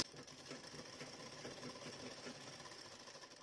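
A sewing machine joins the shoulder seam of a collar-neck blouse, its fast motor hum steady and fairly faint throughout, with no voices.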